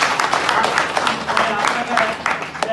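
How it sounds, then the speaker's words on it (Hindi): An audience at a Hindi-language product presentation applauds, with steady crowd clapping at moderate distance that lasts throughout under some indistinct voices. "ताली है इसके लिए।"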